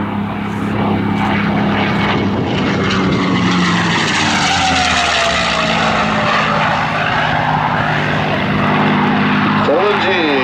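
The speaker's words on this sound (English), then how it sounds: "this highly polished P-51D Mustang as he performs the minimum radius turn" A polished P-51D Mustang propeller fighter at a World War II air show roars loudly through a tight high-G turn, its engine note sweeping and shifting in pitch, with a voice talking over it.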